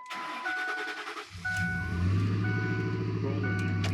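A Ford F150 with a 4.6L or 5.4L engine, just back on the ground after a motor mount replacement, cranks with dash chimes beeping, then catches and settles into a loud, steady idle close by.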